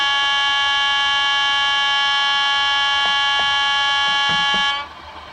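A Hornby model train's sound-equipped horn blares as a sustained, buzzy multi-tone blast for several seconds before cutting off, loud and close, with faint clicks underneath.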